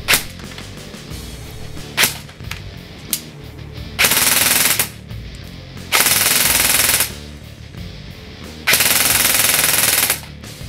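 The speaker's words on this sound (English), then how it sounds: "The gun shot roughly 370 to 380 feet per second with around 1200 rounds per minute on full auto" An APEX CQB/R airsoft rifle fires AEX BBs on full auto at an outdoor field. A few single snapping shots lead into three sustained, loud bursts about a second long, with quiet pauses between them.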